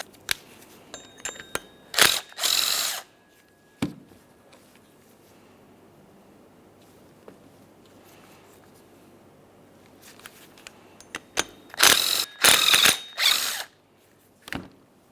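A ratchet with a 12mm socket removes mounting bolts from a bracket on a 2009-2014 Nissan Maxima 3.5L V6. Two bursts of rapid, close clicking come about ten seconds apart, with near silence between them.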